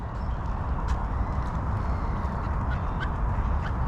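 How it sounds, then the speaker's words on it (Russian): A duck calls in a park on Yelagin Island in Saint Petersburg, giving a few short, fairly faint quacks over a steady outdoor background. "Ничего себе, уточка."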